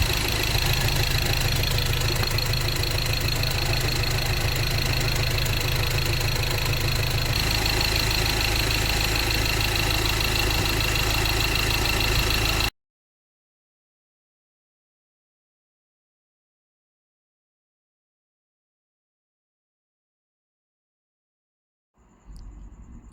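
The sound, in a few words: noisy Ford Ranger 2.2 engine idling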